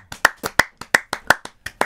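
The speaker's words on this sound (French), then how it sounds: "on applaudit les équipes qui ont passé le mois de septembre" About a dozen sharp hand claps land in a loose, fairly even rhythm, close and distinct with clear gaps between them, as if from one or two people, with no voices.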